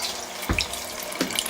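Water rushing steadily into a washing machine set to hot, a continuous close hiss and splash with a couple of brief thumps along the way.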